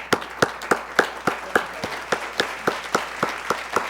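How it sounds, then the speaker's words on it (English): Sparse clapping for a quiz bowl team after a game, with a few hands beating a steady, slightly uneven rhythm of distinct claps, close and clear, no talking. "Let's give them a round of applause."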